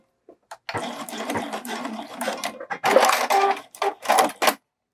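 Home sewing machine stitching a bralette, with short bursts of close, buzzing motor-driven needle runs separated by brief pauses as a few extra securing stitches are added around a corner.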